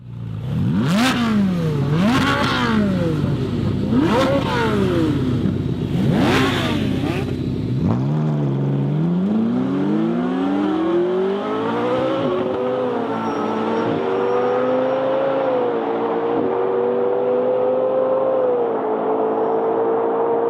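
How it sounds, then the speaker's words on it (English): A Ferrari 458 Speciale and a Porsche 997 GT3 RS 4.0 roar and rev hard in a drag race, pitch climbing through several gear changes as they accelerate away, loud and close, with no talking. "Gentlemen, start your engines."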